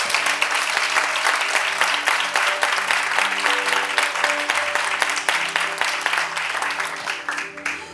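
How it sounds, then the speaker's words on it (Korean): A church congregation applauds, with dense, sustained clapping from a large crowd filling the room for several seconds and slowly thinning toward the end, over a low organ or keyboard tone. "그렇게 하실 하나님을 우리 영광의 박수로 올려드리겠습니다"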